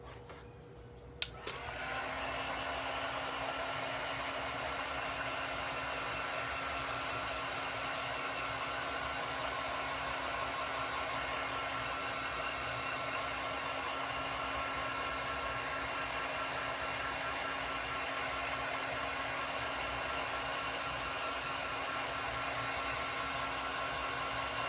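A heat tool blows hot air onto a 3D colouring gnome figure, a steady, even roar of rushing air running continuously after a brief click at the start, with no talking.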